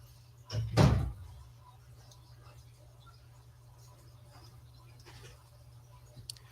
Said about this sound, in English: I'll just close my door instead